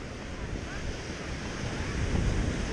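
Big, rough ocean waves wash onto a wide beach on a windy day, making a loud, continuous roar of surf mixed with wind buffeting the mic. No one speaks.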